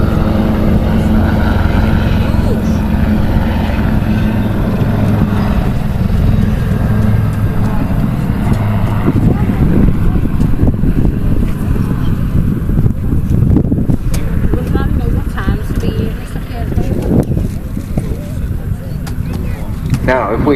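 An aircraft flies at the Southport air show, a continuous loud rumble and propeller-like drone with heavy wind buffeting on the microphone, someone talking over it throughout.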